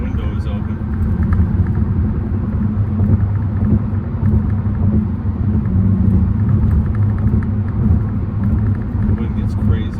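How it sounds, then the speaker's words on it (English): Wind buffets loudly through an open window of a BMW M6 cruising in traffic, a dense, close low roar of rushing air and road rumble that runs without pause. "The wind gets crazy in here."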